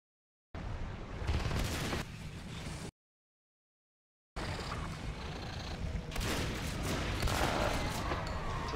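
Shotgun fire in the Natural Selection 2 video game during a competitive match, heard as dense bursts of blasts in two stretches with a brief silent gap between them.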